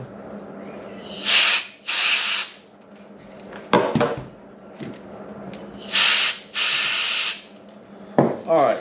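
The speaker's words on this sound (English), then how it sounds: "I've got some compressed air. I'm also gonna spray in there to sort of clean it out." Compressed air sprayed into a Kobalt 40V Max pole saw to blow out wood shavings and dust: four loud, steady hissing blasts, each roughly half a second to a second long, in two pairs with clicks and handling noise between.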